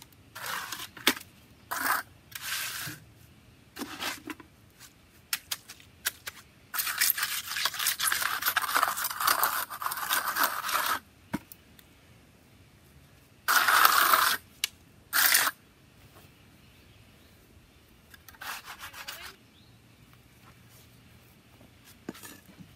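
A trowel works wet concrete inside a narrow retaining wall form, producing short scraping strokes and a longer stretch of gritty smoothing, broken by quiet pauses.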